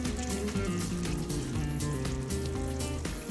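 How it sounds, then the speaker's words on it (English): Water poured into a hot pan of sugar for olive and Meyer lemon marmalade, a loud continuous hiss and bubbling sizzle filling the whole moment with no voices. "I'm adding the water."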